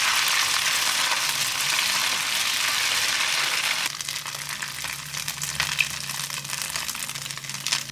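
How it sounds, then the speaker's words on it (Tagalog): Rice balls fry in oil in a non-stick pan with a loud, dense, even sizzle that eases to a quieter, crackling fry partway through. "Ituloy lang natin yung pagpipirito dahil medyo palulutungin natin to."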